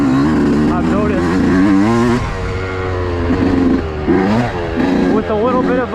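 A Yamaha YZ125 two-stroke motorcycle with a race engine revs hard on a ride, its buzzing pitch climbing and dropping through repeated throttle blips, loud and close throughout.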